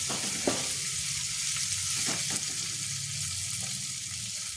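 Spices sizzle steadily in a hot pan for masala basmati rice, a constant close frying hiss with a few soft stirring scrapes and no talking.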